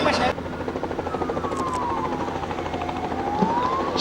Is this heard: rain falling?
no